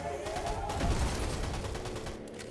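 Rapid gunfire in the battle royale game Fortnite, a dense rattling volley of shots continuing for a couple of seconds, loud and close.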